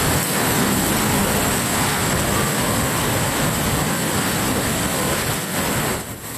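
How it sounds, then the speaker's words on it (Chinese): Subway train cars at a station platform in Ishikawa rattle and roar loudly and continuously during a strong earthquake, easing off only at the very end. "当时不止停等车厢发出可怕的噪音"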